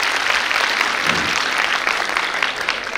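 An audience at a school annual day function applauds to welcome a children's Ganesh Vandana performance. Thick, continuous clapping from a large crowd sounds close and steady throughout.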